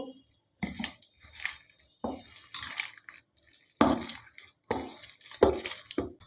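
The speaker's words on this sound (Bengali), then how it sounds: "আমি আর একটু জল দেবো" Water is added a little at a time to cabbage pakora batter, making short, splashy bursts of pouring and sloshing separated by brief pauses, close and fairly clear.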